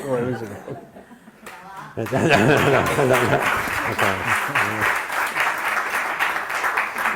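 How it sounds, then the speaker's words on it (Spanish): Speech at a cultural event in Aranjuez gives way to audience laughter and then a full round of applause, dense steady clapping filling the second half as the laughter fades. "me he traído una cassette de aplausos enlatados"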